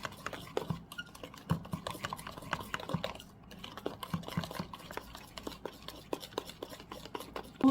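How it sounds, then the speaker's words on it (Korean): A spoon stirring a bubbling coffee-grounds soap mixture in a container, giving a steady run of small clinks and scrapes with soft liquid sloshing, close and fairly quiet, with no talking. "일단 저어줍니다"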